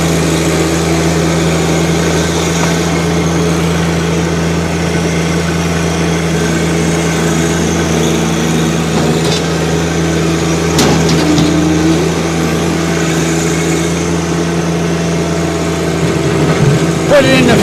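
A 2022 John Deere 1025R compact tractor idles steadily nearby with a low, even diesel drone and a faint mechanical clunk partway through as it shifts into high range; someone talks over the engine.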